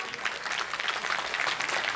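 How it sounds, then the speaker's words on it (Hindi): An audience at a dance performance event claps together, a rapid, continuous patter of many hands that sounds fairly distant and soft. "एक बार जोरदार तालियां"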